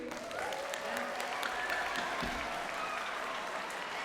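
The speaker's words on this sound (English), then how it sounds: "Clap if you agree" Audience at a school band's Halloween Spooktacular concert breaks into dense, steady clapping that fills the whole stretch at even loudness, with a few faint voices mixed into the crowd.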